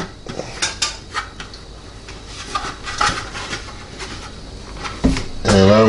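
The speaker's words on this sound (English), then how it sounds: "Alright, get our lid on." The lid of a NuWave oven goes on with clanking and rattling of metal and glass, a few knocks and taps, then a louder clunk as it settles near the end.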